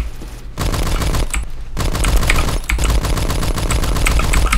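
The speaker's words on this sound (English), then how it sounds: "Holy crap, that's a shotgun." Rapid bursts of gunfire crackle in a video game, loud and dense, cutting out briefly twice before resuming in sustained volleys.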